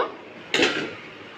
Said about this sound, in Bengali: ঢাকনাটা আমি খুলে নেব